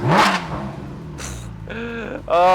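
A Porsche GT4RS fires up with a sharp burst of intake and engine noise, then settles into a revving idle with rising blips, loud and close, ending on a strong rev.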